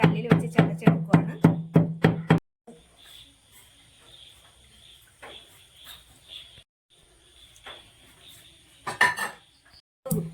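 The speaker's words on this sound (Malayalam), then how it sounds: "മുളക് നമുക്ക് നന്നായിട്ട് കല്ലിൽ വെച്ച് ചതച്ചെടുക്കുവാണ്." Chili peppers crushed on a grinding stone while making a jackfruit snack: about eight quick, heavy pounding strikes in a steady rhythm, then quieter scraping and light clatter.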